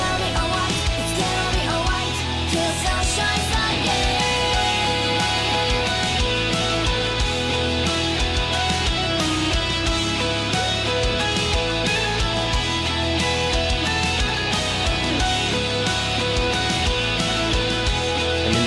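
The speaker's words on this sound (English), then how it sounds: "All this bell or whatever that sound is" High, bell-like chiming tones ring through a mellow song, sitting above guitar in a dense, steady mix that plays continuously at full loudness without any talking.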